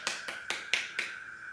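Students in a classroom clap their hands in a short burst of five sharp, evenly spaced claps, crisp and moderately loud, fading out at the end.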